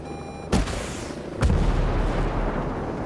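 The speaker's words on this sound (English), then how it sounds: "Thank goodness for homing missiles." In Ghost Recon Breakpoint, homing missiles launch at helicopters with two heavy booms about a second apart, each followed by a rushing roar over a constant loud rumble of battle.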